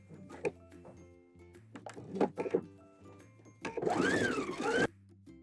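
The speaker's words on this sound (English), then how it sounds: "So I'm going to be following my chalk line when I sew." A sewing machine stitches a pant leg along a chalk line while taking in the waist and seat, giving a few short bursts and then one longer steady run near the end, close and fairly loud with no talk over it.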